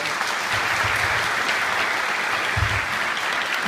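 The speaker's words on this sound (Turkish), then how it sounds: "Onlara kocaman bir alkış hep beraber lütfen." At a poetry recital event in Iğdır, an audience applauds the writers and poets with steady, full clapping throughout.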